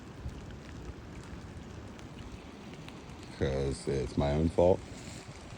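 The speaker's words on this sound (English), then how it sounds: "The wind on the other side is crazy." Strong, steady wind rushing over choppy lake water during rain, a constant broadband roar close to the microphone, with a person speaking briefly toward the end.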